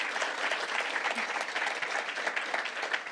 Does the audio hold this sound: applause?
yes